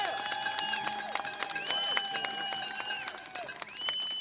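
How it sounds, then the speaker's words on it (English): An outdoor crowd at a government employees' protest against Elon Musk and DOGE applauds workers with steady clapping and cheering, while a loud warbling whistle-like tone keeps sounding above it. "give a round of applause for the workers at OPM"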